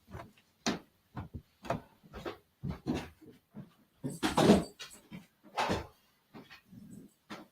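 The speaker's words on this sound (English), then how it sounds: "I'm going to get my dog in." A pet dog whimpers and pants indoors in short, repeated bursts with pauses between them, fairly close and moderately loud, with faint knocks of a door or cupboard now and then.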